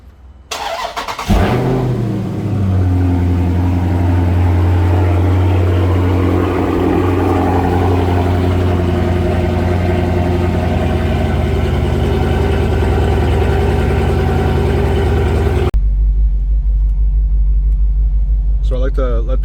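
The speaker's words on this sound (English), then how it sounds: "So I like to let the car warm up and just drive around in eco mode." A Dodge Charger Scat Pack fires up with a loud burst, then settles into a deep, steady rumbling idle that runs close and continuous for about fifteen seconds before cutting off abruptly.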